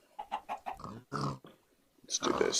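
Pigs in Minecraft Sky Factory 4 give several short oinks, close and clear, alongside other game sounds, with a voice heard between them.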